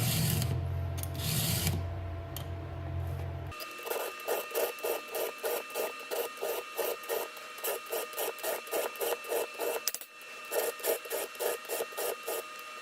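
A hand file sharpens a chainsaw chain in steady, even strokes, a rhythmic scraping series with a brief break partway through, following a short stretch of other noise.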